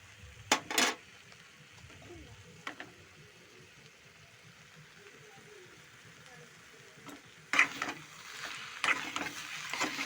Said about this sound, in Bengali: আদাটা দিয়ে মিশিয়ে দেবো